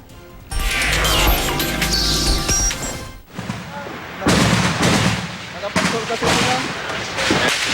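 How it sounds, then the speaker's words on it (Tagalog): Gunfire during a military assault on a Maute Group stronghold in Butig, Lanao del Sur, with loud, dense volleys of shots and blasts echoing in bursts, mixed with voices. "Sinasalubong ng putok ng mga terorista ang nag-ooperate ng mga sundalo"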